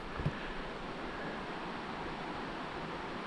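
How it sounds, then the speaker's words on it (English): A river flows far below a steep Appalachian Trail descent, a faint, steady distant rush, with a brief low bump near the start. "Can you hear that river down there?"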